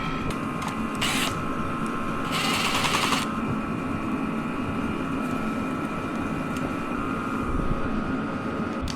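A power driver snugs bolts on dirt bike armor, giving short whirring bursts over a steady background mechanical hum, close and moderately loud.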